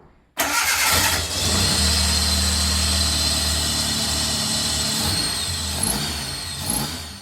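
A car engine with modified throttle body and OMEX engine management cranks and fires up loudly, then settles into a strong steady idle with a few light revs near the end.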